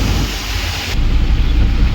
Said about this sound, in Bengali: আবার বৃষ্টি নেমে গেছে